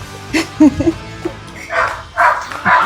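Dogs, including a litter of newborn puppies, yip and bark inside a closed garage at a resthouse in Calatagan, a few high short yelps and whimpers close by, mixed with a person talking.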